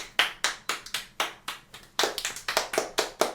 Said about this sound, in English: please clap it up for your new group leader, Anuk Kumraj.